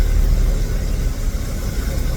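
A small aircraft engine with its power pulled back to idle on final approach in landing configuration gives a low, rumbling drone, steady and close with slight fluctuations.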